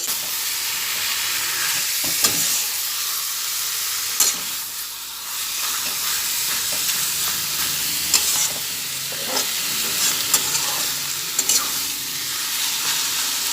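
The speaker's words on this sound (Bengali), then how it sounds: "ভালোভাবে নাড়িয়ে চাড়িয়ে নিই একদম ভালো করে কষিয়ে নেব" Chicken pieces being stirred and sautéed in a pan, a steady loud sizzle broken by repeated scraping strokes of the spoon at irregular intervals, with no talking.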